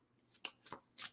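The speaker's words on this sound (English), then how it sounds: "shuffling up the cards here" Tarot cards being shuffled: three quick, soft papery bursts, each a brief riffle or slide, close and quiet with no talk.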